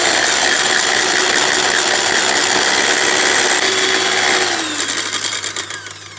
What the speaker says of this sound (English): So now we're going to whisk our 75 ml of cream in the measuring jug